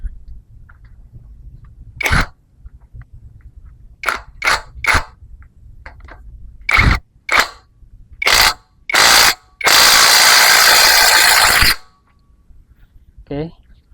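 A cordless APR impact wrench fires in short bursts, several brief hammering rattles followed by one longer sustained run of about two seconds, loud and close, with a cough and brief speech between the bursts.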